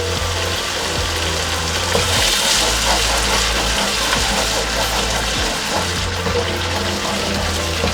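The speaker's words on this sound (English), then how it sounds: "I'm gonna add quarter cup of water." Water is poured into pomfret fish curry sauce frying in hot oil, producing a loud, steady rushing hiss and sizzle that fills the whole stretch without talk.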